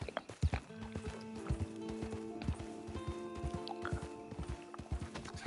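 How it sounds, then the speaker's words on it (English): A Mustang's hooves clip-clop steadily in Red Dead Online, a close, rhythmic run of hoofbeats with a brief whinny and faint game ambience underneath. "the horse I'm using right now is actually a Mustang"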